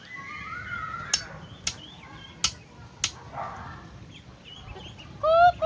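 A flock of ducks gathers at a feeding tray in a garden, with soft calls and honks, four sharp clacks or taps, and a louder burst of quacking near the end, all at moderate distance.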